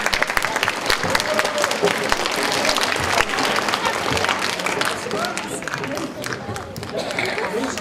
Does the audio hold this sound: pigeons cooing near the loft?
no